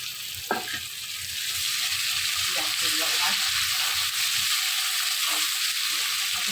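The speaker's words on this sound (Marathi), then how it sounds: "आता हे छान लालसर आपण फ्राय करून घेऊयात" Onion and tomato frying in a pan for a cabbage dish, giving a steady, close sizzle with stirring scrapes that continues throughout, and no talking over it.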